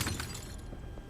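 Glass shatters as a picture frame is knocked over in the Batman Telltale video game, a brief close crash with scattered tinkling debris, heard alone.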